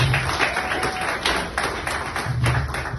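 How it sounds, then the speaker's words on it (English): Audience applause for Veronica at a sold-out live event for writers, brisk crowd clapping with a dense patter of hands throughout the short stretch, fairly close and steady. "Let's give a round of applause to Veronica."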